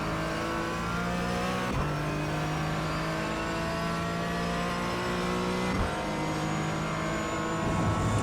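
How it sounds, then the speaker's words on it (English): A GT4 race car engine at Monza drones loud and close from onboard, its harmonics holding steady, with brief dips in pitch near two and six seconds as it shifts or lifts. No one speaks. "I love the sound of this car."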